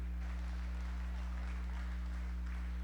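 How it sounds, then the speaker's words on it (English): Audience applause at a livestock sale at the Missouri State Fair, a steady, even wash of clapping that holds for the whole stretch over a low electrical hum. "Give her a round of applause."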